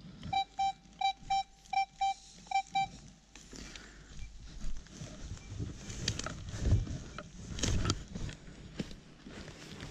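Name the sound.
metal detector signal beep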